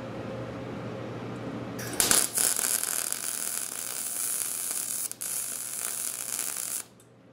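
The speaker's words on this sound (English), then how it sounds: "One more spot and it's welded completely around." Welding a go-kart muffler: a steady, close, loud crackling sizzle starts abruptly, runs for about five seconds with one brief dip, then cuts off, over a low background hum.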